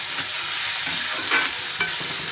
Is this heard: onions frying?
yes